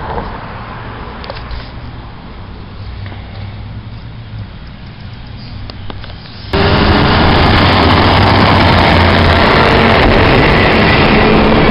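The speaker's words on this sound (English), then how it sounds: "Watching the cars go by here." Cars in morning traffic on North Main Street in Mansfield, Massachusetts, a low rumble of idling and passing engines that jumps abruptly to a louder, broader roar of traffic and wind halfway through.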